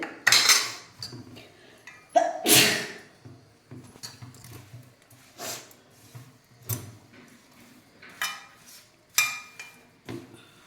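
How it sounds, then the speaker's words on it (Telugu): A spoon scrapes and clinks against a pot while mixed rice is stirred with pulse powder, irregular metallic knocks and scrapes repeating through the stretch. "చిత్రాన్నం కూడా ఈ విధంగా కలుపుతాను"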